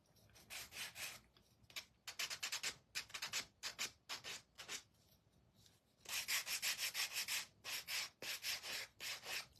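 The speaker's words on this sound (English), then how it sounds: "get that sanded" Hand sanding of small wooden pilgrim craft pieces, heard as close, rhythmic back-and-forth rasping strokes in bursts with short pauses between them and no talking.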